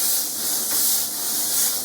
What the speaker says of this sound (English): I can take my same steam